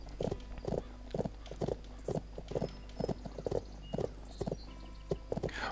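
Horse hooves clip-clop steadily at a walking pace while riding in the Bibi & Tina game on Switch, with evenly spaced, fairly close hoofbeats over a low steady background hum and no talking.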